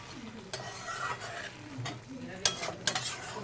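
Prawns with raw green tomato fry in a pan while being stirred, a soft sizzle broken by sharp scraping clinks of the spatula against the pan near the end.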